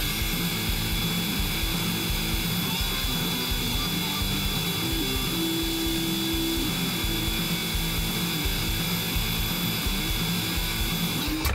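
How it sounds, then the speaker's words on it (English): A belt grinder runs continuously as a G10 knife handle is buffed on it, a steady whirring drone with grinding texture, moderately close and unbroken throughout. "Now we'll just buff all that out."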